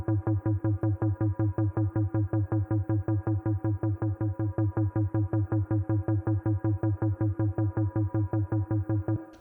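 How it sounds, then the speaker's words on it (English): Synth pluck bass pulses in a fast, steady run of short, bright notes, dozens of evenly spaced hits on one repeating pitch, loud and alone. "the first bass sound here is this pluck bass"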